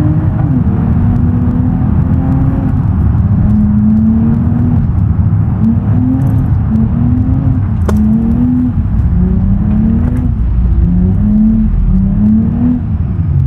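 Mercedes-Benz SUV driving off-road in GTA 5, a loud continuous engine drone with shifting revs and rising and falling pitch throughout, no talk.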